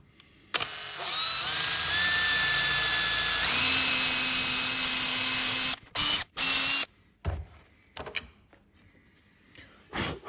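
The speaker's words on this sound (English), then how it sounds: "we're going to drill halfway through the leg a 15 mil hole with this Forstner bit" A power drill with a Forstner bit whines loudly as it bores a 15 mm hole into a wooden leg, its pitch rising as it bites, then short bursts and stops follow.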